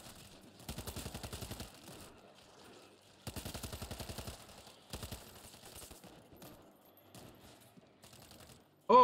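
Automatic gunfire in World War Z Aftermath, Moscow mission: two long rapid bursts of rifle fire, then shorter bursts and scattered single shots, moderately loud and close.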